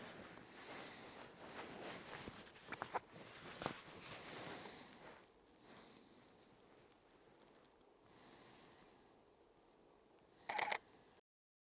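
A single camera shutter clicks sharply near the end as a macro photograph of a water-sprinkled flower petal is taken, preceded by quiet rustling and handling noises.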